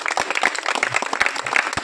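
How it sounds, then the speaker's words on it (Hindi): An audience at a temple festival talent show applauds a performer, with brisk, close clapping from a small crowd in a short continuous burst. "एक बार इनके लिए जोरदार ताली बजाइए सब लोग।"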